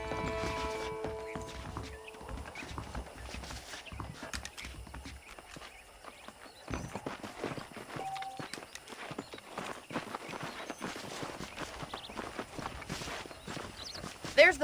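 Horse hooves clip-clop across ground in the Red Dead Redemption video game, with irregular hoof strikes growing denser and louder after a quieter start, over low ambient game sound and music.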